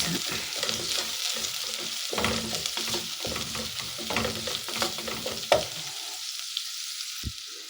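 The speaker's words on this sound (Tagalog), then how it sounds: "Haluin na natin mga guys." Dried shrimp frying in a pan for a miswa and patola dish, stirred with quick scraping strokes over a busy crackling sizzle that cuts off near the end, leaving a quiet pause and a single knock.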